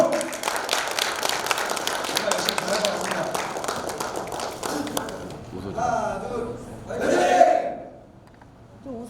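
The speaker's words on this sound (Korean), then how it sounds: "신입회원 대표 정한성 박수 한번 주십시오" An audience claps for a new member representative at an inauguration ceremony of a citizen police association, a steady burst of applause that fades into talk and scattered voices.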